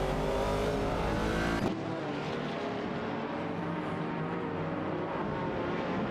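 Racing cars in a video game, a Shadow DN4 and a McLaren M8C among them, roar steadily at close range with engines droning at high revs, and the sound changes abruptly partway through.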